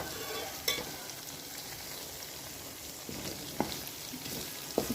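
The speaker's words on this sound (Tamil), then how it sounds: "அந்த எண்ணெயிலேயே நம்ம எல்லா பொருள்களையும் வதக்கி விட்டுக்கலாம்" Onion and tomato masala for paneer bhurji frying in oil over a low flame, a steady soft sizzle with a few sharp clicks of a spoon stirring against the pan, no voices.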